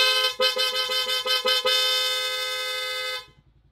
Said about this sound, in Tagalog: Tapos, busina tayo.